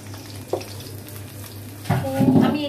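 Onion paste goes into a pan on very low heat, with a faint sizzle and a brief scrape early on, then louder stirring and spatula scraping with rising sizzle toward the end.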